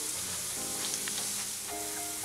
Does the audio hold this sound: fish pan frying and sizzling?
yes